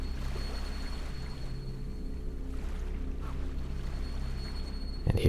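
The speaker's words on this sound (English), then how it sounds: "I awoke to the sounds of waves washing on rock" Low, steady wash of waves breaking on rock from the video game Salt and Sanctuary, a soft continuous surging rumble with gentle swells, no voices.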